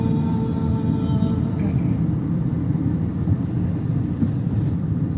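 A car on a driving lesson accelerates in traffic, its engine a steady, moderate low rumble heard from inside the cabin throughout.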